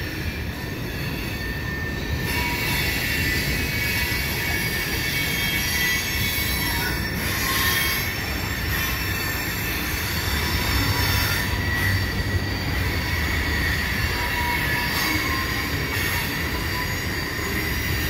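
A CN freight train rolls past nearby with continuous high-pitched wheel squeal over a steady rumble of railcars, keeping up for the whole run without a break.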